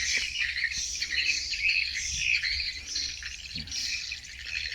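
Swiftlet calls play back continuously from a recording, a dense stream of high chirps and twitters held at a steady level with no pauses.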